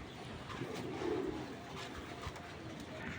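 A racing pigeon coos nearby, a soft low throaty call rising briefly in the first half against a faint background rustle, with no talk.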